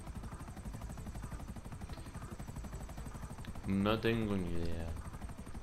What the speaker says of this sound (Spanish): ¿Y sabes que este helicóptero es ruso?